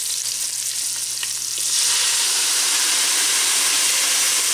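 Sesame oil and soy sauce hit a hot pan to deglaze it for a smoked pork egg roll bowl, a moderate sizzle that abruptly swells into a loud, steady hissing roar.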